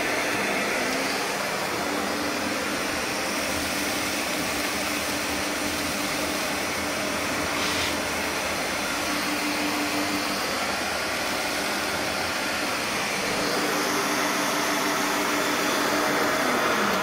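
A Record Power CamVac wall-mounted woodworking dust extractor with two motors runs continuously, a loud, steady, close whooshing roar of air with a high whine and no break.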